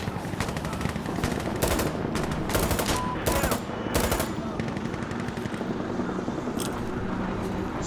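Machine gun fire in the video game Insurgency Sandstorm: loud sustained automatic bursts rattling over a dense battlefield din, with more distant shooting continuing as the bursts ease off.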